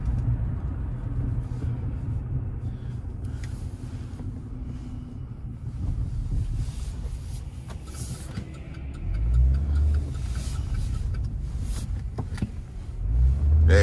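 A car is driven along, with a steady low engine rumble and road noise filling the cabin, interior clicks and a few louder bumps toward the end.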